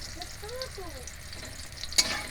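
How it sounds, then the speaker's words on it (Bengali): Pointed gourd (potol) fries in a pan with a close, steady sizzle, and a sharp utensil clink comes near the end. A faint voice can be heard in the background. "পটলটা লাল লাল করে ভেজে নিয়ে"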